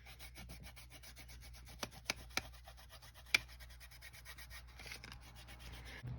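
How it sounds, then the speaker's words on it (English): Fingers smushing distress crayon blended over collage medium on a surface: close, soft continuous rubbing with a few sharp little clicks, faint and steady throughout. "Now I'm just going to go in with my fingers and smush this around"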